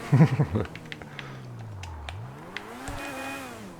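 Vapid FMJ supercar in a video game, engine cranking then settling into a smooth, rising and falling idle with a low steady drone, close and moderately loud after a brief burst of voice at the start.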